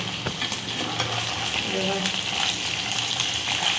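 Local tengra fish fry in hot oil in a pan with a close, continuous crackling sizzle, a voice speaking briefly over it.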